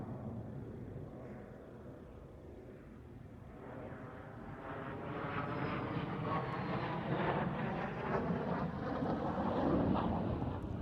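An upgraded AJ-37 attack jet passes at an airshow, its engine roar heard at a distance and slowly swelling louder over about ten seconds as a steady broadband rumble.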